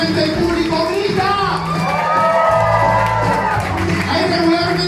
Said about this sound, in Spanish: Ahí regularmente el público grita.